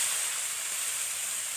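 Green beans fry in a pan as they are stirred, making a steady, fairly soft sizzle with a small scrape near the end.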